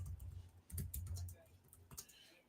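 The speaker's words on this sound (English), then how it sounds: "My typing is terrible tonight." Fingers type rapidly on a computer keyboard up close, a brisk clatter of key clicks in uneven bursts, with faint speech underneath.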